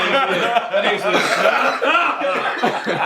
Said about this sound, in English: Let me get the cough out